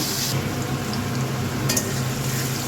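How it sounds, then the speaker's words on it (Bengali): Fish frying in a pan in a home kitchen gives a steady, moderate sizzle with faint crackles throughout, no voices. "মাছগুলোকে ভেজে নিন দাদা"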